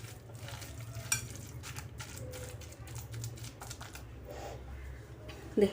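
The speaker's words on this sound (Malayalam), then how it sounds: "കൈകൊണ്ട് തന്നെ നമുക്ക് മിക്സ് ചെയ്തെടുക്കാം." Dough for a traditional Kerala spinach dish, mixed by hand without added water, gives faint, soft squishing and rustling sounds in a quiet kitchen.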